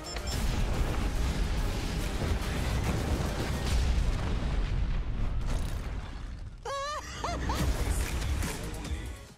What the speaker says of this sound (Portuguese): Lá vai bomba!